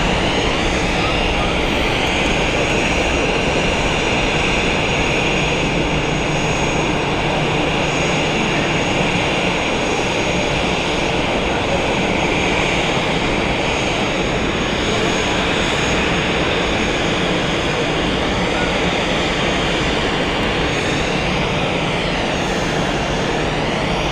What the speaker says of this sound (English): There's a lovely little Gulfstream 500